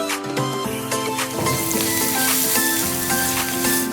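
Chopped onions with salt hit hot oil in a pan for cucumber dal pulusu, setting off a busy crackling sizzle that starts with a few sharp spits and settles into a steady loud fry.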